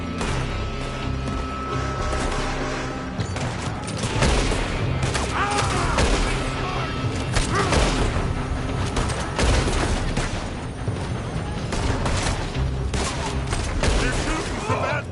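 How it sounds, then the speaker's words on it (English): Shooters firing from a building in Red Dead Redemption 2 send out a long, loud fusillade of overlapping gunshots and booms, packed tightly together with no letup for the full stretch. "They're shooting from that building."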